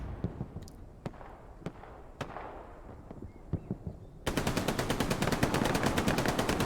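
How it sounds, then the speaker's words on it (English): Machine gun fire in a large online video game battle, with distant single gunshots over a busy background, then a sustained loud rapid burst of automatic fire for the last couple of seconds. "That MG is just holding them back there."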